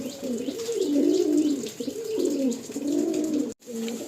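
Andhra pigeons, a Fulsira pure pilanka female among them, coo steadily in a Kolkata loft, with repeated low rolling coos rising and falling close by and no talk over them.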